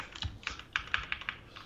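Rapid keystrokes on a Wooting computer keyboard, a quick irregular run of sharp clicks close by over a short burst, with no one talking.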